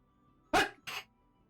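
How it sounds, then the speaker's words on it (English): A person sneezes close to the microphone, a sharp explosive burst followed by a shorter second expulsion, both loud against a quiet room. "Oh god, I'm gonna sneeze."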